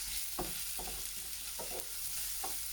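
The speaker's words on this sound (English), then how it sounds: "So I'm just going to stir that in, give that a quick cook. It's cooking good now." Chilies frying for a chicken and vegetable frittata, with steady soft sizzling in a pan broken by several quick scraping stirs of a utensil, faint and close, no talking.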